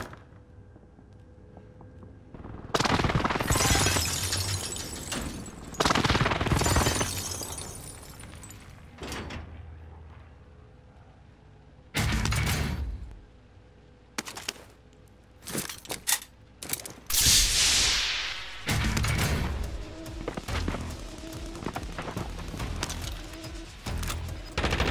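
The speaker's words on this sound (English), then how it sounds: "Enemy precision airstrike." Precision airstrike explosions in a battle royale shooter, several heavy booming blasts arriving in separate clusters with rumbling tails and scattered crackling debris between them.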